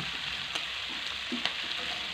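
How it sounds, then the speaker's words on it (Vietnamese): Pork tripe with lemongrass and chili stir-fries in a hot pan, giving a constant loud sizzle broken by a few soft stirring clicks, with no talking. "mình xào đều tay một lát là tắt bếp được"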